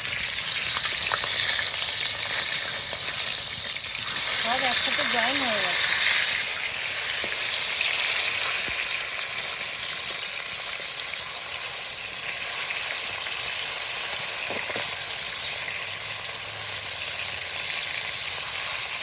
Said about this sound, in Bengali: মাছগুলো আরেকটু ভাজা হতে থাকবে